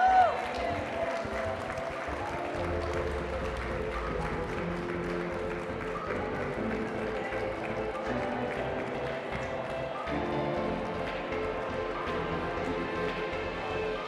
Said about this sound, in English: Big round of applause, bring her in.